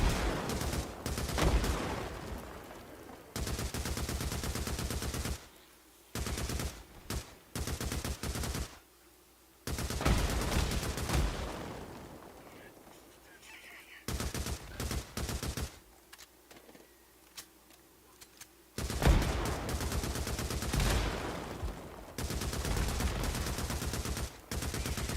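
Gunfire in a horde shooter video game, long dense bursts of rapid automatic fire broken by short gaps and single shots, loud and sustained across the whole stretch with no talk.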